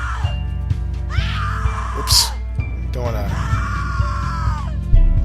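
A woman's drawn-out, wavering screams from The Cat Lady video game rise and fall over a low droning game soundtrack, loud and close, with a player's voice briefly speaking over them.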